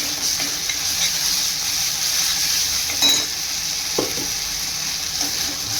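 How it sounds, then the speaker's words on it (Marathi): A coconut, ginger and garlic masala paste sautéed with onion for a cluster bean dish gives a steady soft sizzle, with a few light scrapes of stirring and no talk. "त्याच्यामध्ये आपण जे वाटण तयार केलेलं ते वाटण थोडं टाकून घेऊया आणि तेही छान परतून घेऊया।"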